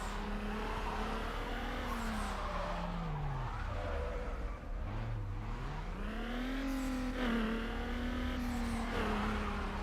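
A Subaru drifting in the video game Need for Speed Underground, with tires squealing and skidding over a revving engine whose pitch dips and climbs through the slide, loud and continuous.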